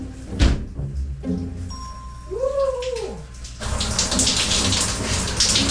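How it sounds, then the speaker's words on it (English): A warm shower in an RV starts running partway through as a loud, steady spray of water, after a thunk and some faint tonal whooshing noises. "I'm about to take a warm shower."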